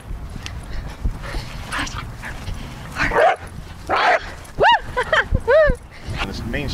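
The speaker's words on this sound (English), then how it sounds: "A whippet bark." A whippet barking outdoors in an open park beside a highway, a few short yips and whimpering barks near the end, heard over steady traffic noise and someone talking.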